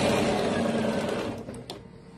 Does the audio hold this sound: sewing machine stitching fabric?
yes